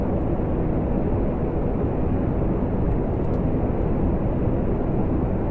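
Solid fuel rocket boosters fire in Kerbal Space Program, a loud, steady, dense roar running unbroken from start to finish with no voices.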